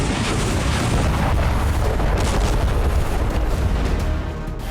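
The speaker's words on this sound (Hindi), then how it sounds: "हमले में यूक्रेन के एक हथियार डिपो को तबाह कर दिया गया।" Massive blast and fire at a Ukrainian weapons depot struck in a Russian attack, heard as a continuous loud, low rumbling roar with crackling bursts running throughout, no voices.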